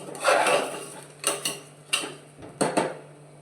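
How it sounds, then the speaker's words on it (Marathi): Unwashed rice dry-roasted in a pot for Maharashtrian rajma masala bhat, with a spoon scraping and clinking against the metal in several separate bursts, close and fairly loud. "दोन तीन मिनटं चांगलं परतून घ्यायचं तांदूळ न धुता"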